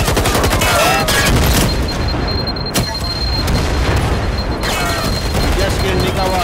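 Gunfire and grenade blasts in the video game Firewall Zero Hour, dense and loud throughout, with heavy booming explosions, sharp cracking shots and rattling bursts, while players talk over the din.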